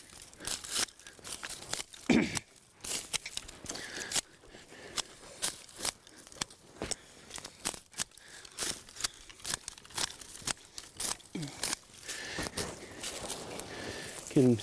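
Pruning shears snipping through raspberry canes during winter pruning, with sharp cuts and rustling, crackling stems in an irregular series, close and moderately loud, while a person talks intermittently.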